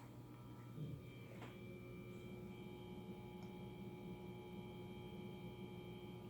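An LG refrigerator with an inverter compressor running at home, a steady low electrical hum with faint high whine layered over it, continuous and unchanging, with one or two faint clicks and no voices.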